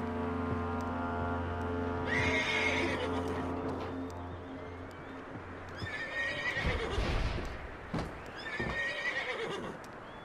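A horse in Red Dead Redemption 2 whinnies loudly several times in drawn-out neighs, with soft hoof clops and snorts between them over a low steady background hum.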